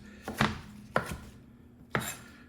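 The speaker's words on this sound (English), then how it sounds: "all we're going to do is roughly chop this" A knife roughly chops a handful of fresh leaves on a cutting board for Thai green curry, giving three distinct, sharp chops spaced about a second apart, close and clear with no talking.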